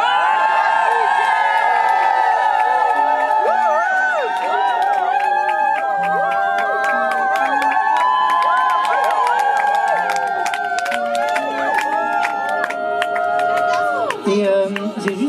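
A crowd at a live show shouts, whoops and cheers continuously, a loud, dense roar of many voices with scattered claps and sharp yells running throughout.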